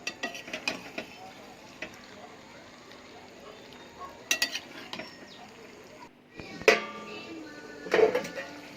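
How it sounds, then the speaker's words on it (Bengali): Chicken meat being stirred and sautéed in a pan in a home kitchen, heard as scattered metallic scrapes and clinks of a spatula against the pan over a low frying hiss, with a few louder clatters toward the end. "ভালো করে মাংসটাকে কষাবো।"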